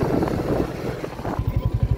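Motorcycle engine idling and pulsing near at hand while riding into the grounds of a Hindu temple, the low throb becoming more rhythmic toward the end, with no talk over it.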